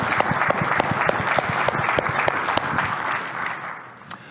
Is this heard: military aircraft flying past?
no